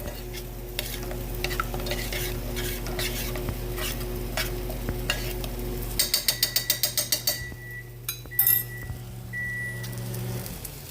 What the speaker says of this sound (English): I'm going to go ahead and stir that just a little bit